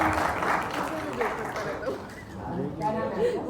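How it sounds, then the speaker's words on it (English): Audience applause at a talk, a burst of clapping mixed with chatter and voices that continues under speech. "We have a round of applause for him."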